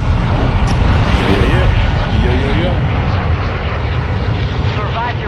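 A video game airplane engine drones steadily and loudly through the whole stretch, a dense roar beneath overlapping voices of players talking.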